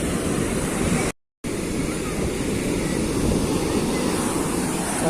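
Sea waves and cool wind at Uchila beach, a loud continuous roar of surf mixed with gusty wind buffeting the microphone, broken only by a very brief silent gap.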